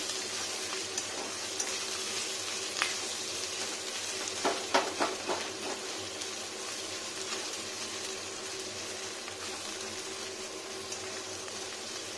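Garlic sautéing in a little oil, a steady close sizzle filling the whole stretch, broken around the middle by a few sharp scrapes and knocks of a utensil stirring the pan. No one speaks.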